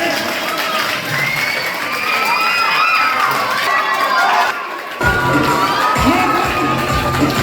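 Crowd at a felicitation ceremony, loud cheering and children's shouting with applause, sustained throughout and briefly dipping before surging again.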